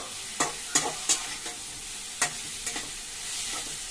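Shredded cabbage frying in a pan for roti pachadi, with a few sharp scrapes and taps as it is stirred over a low, steady sizzle.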